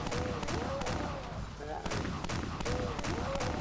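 Gunfire in the Pandemonia video game, a steady run of repeated shots at a fast, even rhythm that fills the whole stretch, with a short lull midway and a faint voice underneath.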